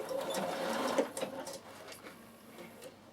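A Bernina sewing machine stitches forward and reverse on a free arm while sewing a summer peak cap: a short quiet run of rapid needle ticks with a brief pause and restart.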